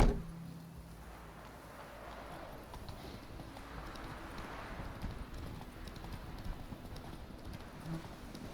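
Hooves of Roach, Geralt's horse in The Witcher 3: Wild Hunt, clip-clopping at a steady walking pace, moderately close, over faint ambient game background.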